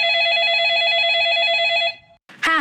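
Telephone ringback tone while calling someone's mom, a steady warbling electronic ring close and clear for about two seconds, then cut off and followed by a brief burst of sound as the call connects.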